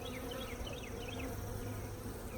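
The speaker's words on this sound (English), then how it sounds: "now it's really just transferring the bees, the remaining bees" Honeybees being moved into a nucleus colony, a dense, steady, close buzz from many bees with no talk.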